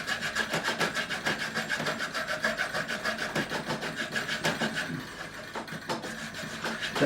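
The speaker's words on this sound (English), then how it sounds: "Let the saw do the work." A hand saw cuts through the nut of a Gibson Les Paul Junior guitar with steady, rapid back-and-forth strokes. The rasping is close and continuous and eases slightly toward the end, with no voices.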